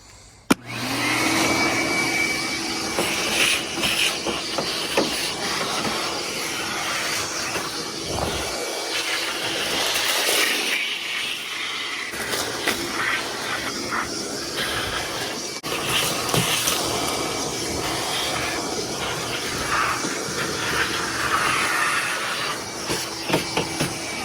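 A vacuum cleaner runs continuously while cleaning out the interior of an E30 BMW coupe, a loud steady whining drone with shifting suction tones as the nozzle moves, starting abruptly and heard alone.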